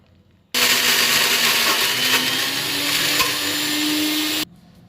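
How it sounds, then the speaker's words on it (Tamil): A mixer grinder whirs loudly for about four seconds, grinding soaked almonds with milk in a steady high-pitched motor drone that starts and stops abruptly. "ஊற வச்ச பாதாம் பருப்பை எல்லாத்தையும் மிக்சரில் சேர்த்து ஒரு 100 கிராம் அளவுக்கு பால் சேர்த்து அரைச்சிக்கணும்."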